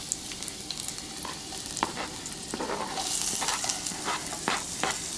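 Shallots hit hot oil in a camp cooking pot outdoors, sizzling steadily with occasional stirring scrapes; the frying hiss swells louder and brighter about halfway through and stays close and continuous, with no voices.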